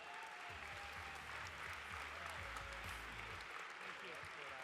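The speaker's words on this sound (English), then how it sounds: "Give them another big round of applause." At the Australian Drinks Awards ceremony, a room of guests applauds a winning brand in steady, continuous clapping, while a voice talks over it faintly.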